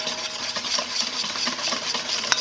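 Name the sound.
whisking fat into an emulsion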